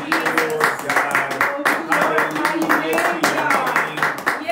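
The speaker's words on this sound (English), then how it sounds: "Let's give the Lord a round of applause" Church congregation clapping in rhythmic bursts along with music and voices, moderately loud and repeating in a steady beat throughout.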